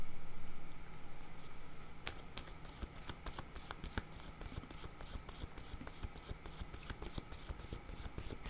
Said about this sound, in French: Je vais déposer une carte sur peur pour le signe du Scorpion.